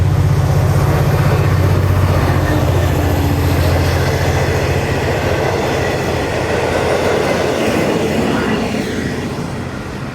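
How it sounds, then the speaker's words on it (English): A train passes close by, heading to Melbourne, its loud steady rumble and rolling wheel clatter filling the air throughout and easing off slightly toward the end. "Here comes the train. Here it comes."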